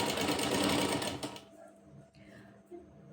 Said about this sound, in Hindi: इस फुट को देखते हुए हमने चारों तरफ सिलाई लगानी है।